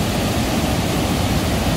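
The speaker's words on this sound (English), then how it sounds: "Still very cool though, the way the water runs over those rocks." Water rushes over rocks at a waterfall on Neshaminy Creek in Hulmeville Borough, Pennsylvania, a loud, steady, broad roar heard up close without any talking.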